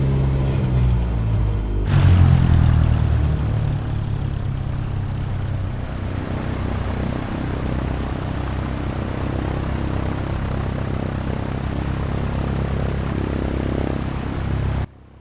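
A steady propeller aircraft engine in a flight simulator game drones, then its pitch and roar drop as the throttle is pulled back, holding a lower hum until it cuts off abruptly.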